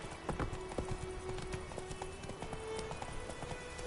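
Hooves of Roach, a galloping horse in the video game The Witcher 3: Wild Hunt, pound in a steady rapid clip-clop over a dense, continuous bed of game ambience and music, with no talking.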